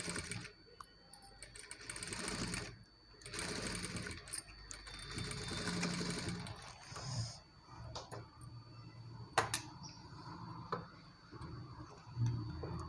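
A sewing machine stitches a blouse in bursts of rapid mechanical ticking and whirring, stopping and starting between runs, fairly quiet and close with small clicks in the pauses.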